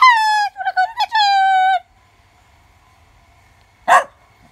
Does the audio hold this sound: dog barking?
yes